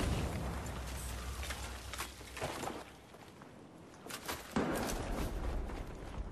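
Tank shell explosions in Battlefield 4, a few loud, sharp blasts and booms with rumbling mechanical noise between them, close and heavy.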